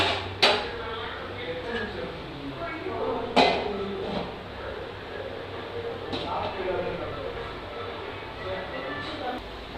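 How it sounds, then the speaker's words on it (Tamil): Chicken gravy is stirred in a pot and a lid is set back on, with a few sharp metallic clanks standing out over quieter scraping and clinking, all under ongoing talk. "இப்போ அதை நல்லா கிளறி விட்டு திரும்ப மூடி போட்டு மூடி வச்சிடலாம்"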